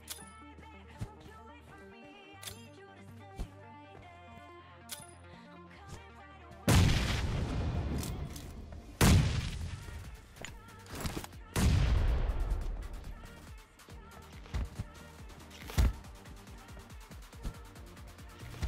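Gunfire in a PUBG Mobile match: after a stretch of faint scattered pops, several loud close bursts of shots ring out with reverberant tails, separated by quieter gaps.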